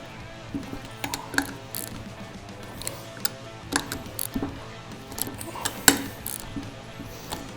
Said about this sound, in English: Go ahead and just tighten them again in a diagonal pattern, and then the outside last